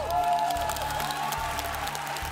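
A studio audience claps after a live singing performance, a short burst of steady, moderately loud applause with some crowd noise and no talking over it.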